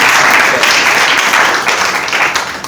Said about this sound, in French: Nous devons acclamer pour vous.